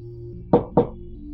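Two quick knocks on a door, sharp and close, spaced about a quarter second apart over a low steady hum, as a horror radio sound effect.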